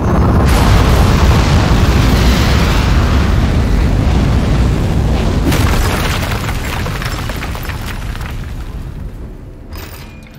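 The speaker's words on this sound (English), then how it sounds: "3, 2, 1. We have liftoff." Rocket liftoff in the video game Aperture Desk Job, a loud, sustained roaring rumble that starts abruptly and thunders broadly, then slowly fades over about ten seconds, with no talk over it.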